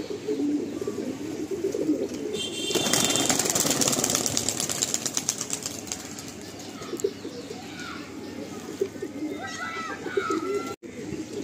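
Pigeons coo in low repeated calls, with a burst of rapid wing flapping partway through and a steady mechanical hum underneath.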